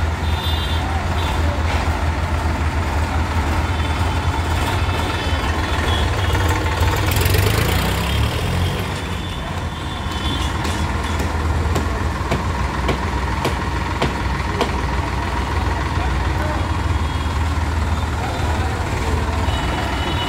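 A Sonalika tractor diesel engine idles and rumbles close by at a tricolour rally for Independence Day, with a steady low throb, a brief louder surge near the middle and crowd noise and voices around it.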